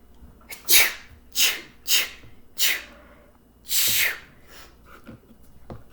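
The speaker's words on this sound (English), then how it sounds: "hang on, I gotta sneeze." A person sneezes repeatedly indoors, five sharp close bursts in quick succession with short breathy gasps between them, the last one longer and louder.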